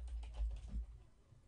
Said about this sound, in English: I'm just listening to you hit the keys.